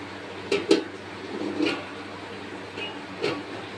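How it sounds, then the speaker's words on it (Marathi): A lid is set on a pot of semolina milk cake on the stove, giving a few distinct clinks and knocks of metal on metal, close and moderately loud, spaced out over a quiet background. "याच्यावरती आपण झाकण ठेवूयात"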